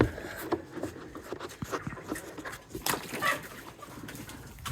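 Hens cluck softly while drinking water at a home poultry setup, short irregular bird calls mixed with light shuffling and background rustle, close by and fairly quiet.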